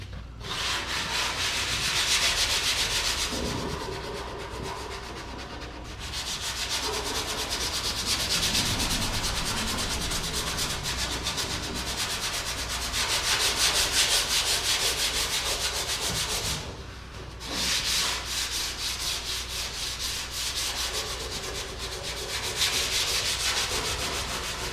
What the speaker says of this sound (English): All right, I'm gonna get to sanding here.